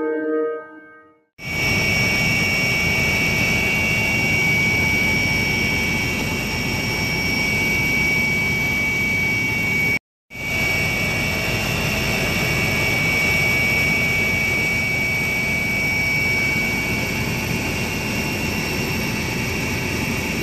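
Loud, steady jet engine roar heard from inside an airliner cabin during a domestic flight, a constant broadband rumble with a high whine, briefly cutting out once before resuming unchanged.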